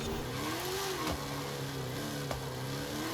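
A car engine drones steadily while driving in the video game Forza Horizon 5, with a tuned car understeering through corners. The tone is continuous and mid-pitched and shifts slightly in pitch, with no talk.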